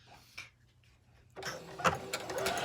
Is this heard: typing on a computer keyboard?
no